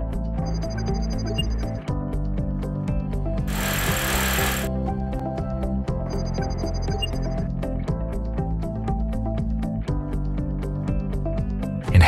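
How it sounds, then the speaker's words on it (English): A power drill bores mounting holes into a wall for an inverter installation, running in long steady loud bursts with rhythmic hammering clicks and a short harsh hissing burst in between. "Follow the installation manual to drill holes."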